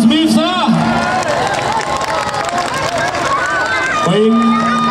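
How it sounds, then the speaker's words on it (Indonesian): Clapping and crowd murmur from guests at a village religious gathering welcoming a preacher, mixed with loud tonal sounds and babble, with a voice over the noise at the start and end. "Kita berikan tepuk tangan yang hangat untuk Gus Miftah."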